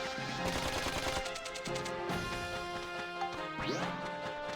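Gunfire in the game Dark Cloud 2 rings out as a rapid string of sharp, tonal shots and metallic impacts over game music, loud and close, with no talk.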